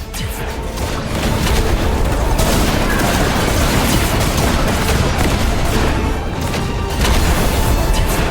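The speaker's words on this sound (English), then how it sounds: "Just use the vane to mark a target, and the Heaven Rock Cannon will rain down fire." The Heaven Rock Cannon barrage in Duet Night Abyss pounds away loudly and continuously for the whole stretch, a dense stream of overlapping booms and explosive crashes with no talking.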